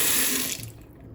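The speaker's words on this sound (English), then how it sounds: "I actually used water running from water faucet." Water runs from a kitchen faucet into a sink, a bright hissing splash that tapers off quickly over about a second, close and alone.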